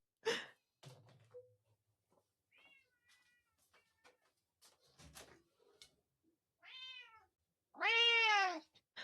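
A pet cat meows from outside a window, a few short mews early on followed by two louder, drawn-out meows near the end, with quiet room noises in between.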